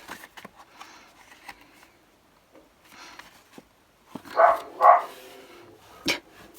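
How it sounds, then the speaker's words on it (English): Dogs bark indoors in a home craft room, a couple of quick barks in the middle followed by one more, faint and somewhat distant over quiet rustling. "Sorry about the dogs."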